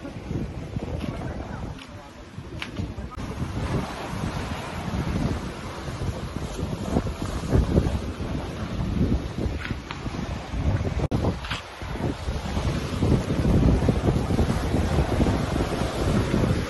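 A speedboat pounds across rough sea waves on the way to Mindoro. Loud wind buffets the microphone, and water rushes and slaps continuously for the whole stretch. Voices are faintly audible at times under the roar.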